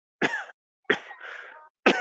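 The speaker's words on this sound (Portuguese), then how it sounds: "Tosse chata, galera." Three sharp, close coughs spaced apart, the middle one trailing into a raspy, drawn-out hack.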